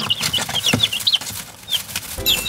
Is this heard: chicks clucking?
yes